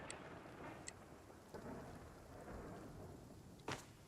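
Steady hail-like rain with rumbling thunder in the video game Nightingale, a continuous wash of storm noise with a few sharp cracks, one louder burst near the end.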